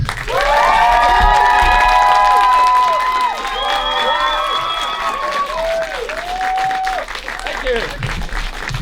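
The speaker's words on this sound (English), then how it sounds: "Please give a huge round of applause for Mr. Brian Sibley." A fan-event audience in London breaks into loud applause and cheering, with dense clapping and whoops that peak early, then ease into softer clapping over about nine seconds.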